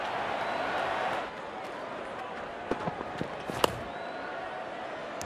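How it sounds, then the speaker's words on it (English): Stadium crowd in the Real Cricket 22 game keeps up a continuous distant roar after a wicket, broken by a few sharp knocks and claps, with a commentator's voice over it. "And there comes the celebration, and the crowd loves it"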